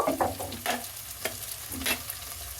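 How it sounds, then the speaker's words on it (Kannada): Ginger, green chillies, mint and coriander leaves fry in a pan for egg gravy, a steady soft sizzle with a few scraping stirs of a spoon, close and moderately loud with no voices. "ಶುಂಠಿನೂ ಫ್ರೈ ಮಾಡ್ಕೊಳ್ಳಿ"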